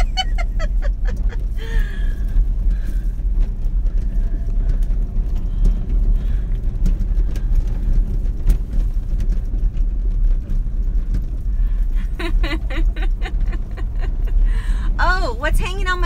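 A four-wheel drive vehicle rumbles steadily along a dirt road on Maui, its low engine drone continuous and close throughout, with a few chirping sounds rising over it near the start and end.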